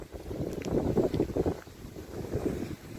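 Gusty wind buffets the microphone in low rumbling bursts outdoors during a flight of young pigeons, rising and easing over a few seconds.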